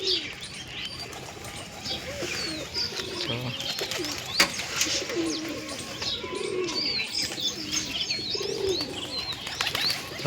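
A flock of white pigeons coos softly around a roosting and nesting area, with many overlapping low coos, scattered chirps and a brief burst of wing flapping over a steady background.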